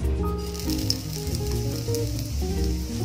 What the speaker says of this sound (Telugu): ఇప్పుడు సూజీ యాడ్ చేస్తున్నాను.